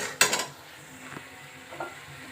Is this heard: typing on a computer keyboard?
no